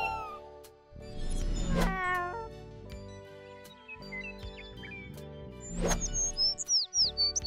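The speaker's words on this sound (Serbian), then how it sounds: "Mačka. Mačka." A cat meows several times up close, its drawn-out cries rising and falling, with a few quick chirping calls near the end.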